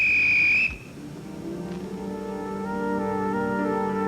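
A shrill, steady whistle is blown once as a call for help in a 1980s children's cartoon. It is loud and close, lasts under a second and then cuts off, and a sustained musical tone follows it.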